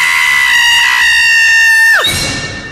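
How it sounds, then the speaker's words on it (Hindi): A long, piercing scream holds steady at high pitch for about two seconds, then breaks off abruptly into a fading echo, used as a horror story sound effect. "क्या हुआ, तू चिल्लाया क्यों?"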